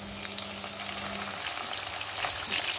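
Garlic fries in a little oil in a pan, producing a dense, continuous crackling sizzle that stays loud and even from start to finish.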